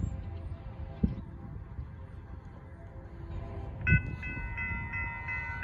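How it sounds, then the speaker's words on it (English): A southbound BNSF freight auto train rumbles past at a street crossing in Buda, Texas, with steady low-end noise and two heavy thuds; near the end a faint horn-like tone sounds in the distance. "Here comes the southbound BNSF auto train."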